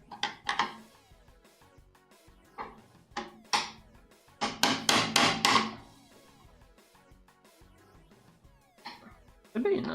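Screwdriver forced against a tab to pry it open on a homemade shop blower, giving clusters of sharp metallic knocks and scrapes, loudest in a rapid run midway, with some speech in between.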